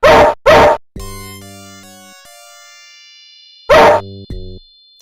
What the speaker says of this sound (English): the dog is barking outside.